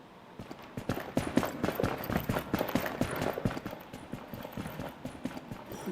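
Quick running footsteps in a video game match, a fast steady patter of thudding steps close by, dense and continuous against a noisy in-game background.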